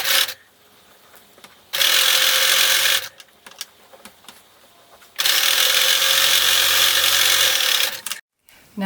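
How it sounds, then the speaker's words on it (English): A sewing machine stitches a 1/4 inch double fold hem on fabric for a beach bag, two loud, fast whirring bursts of running close by, separated by quiet pauses. "you are going to hem it with a 1/4 inch double fold hem"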